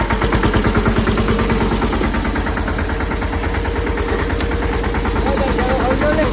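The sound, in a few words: tractor engine running while being driven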